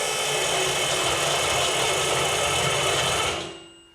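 A car lift's motor raising a car: a loud, steady electric-hydraulic whine and hum running continuously before cutting off and winding down near the end, with no talking.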